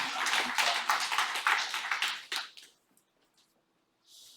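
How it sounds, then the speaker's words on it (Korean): A church congregation at a worship service applauds, a dense burst of many hands clapping together that fades out after about two and a half seconds, leaving near silence before a brief soft noise at the end. "우리 하나님께 영광의 박수하겠습니다."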